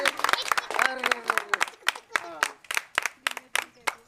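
A small group of people claps in scattered, uneven bursts for prize winners of a neighbourhood Sankranti rangoli contest, with voices talking between the claps.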